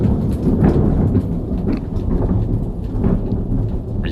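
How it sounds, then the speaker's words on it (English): Thunder rolls and rumbles low and heavy after a nearby lightning strike, with steady rain pattering on surfaces throughout the storm. "We're going to hear a little thunder here in a second."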